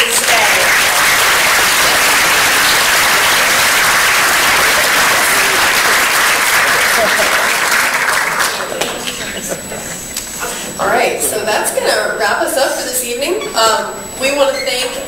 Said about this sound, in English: Again, another round of applause to all the exhibits today.